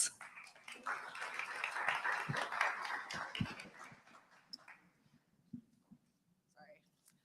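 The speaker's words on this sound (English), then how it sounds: "Please give a round of applause for our guests." An audience at a World Cup salon panel event claps for the panel guests, a dense burst of applause that swells over a few seconds and then thins out into scattered claps while voices murmur.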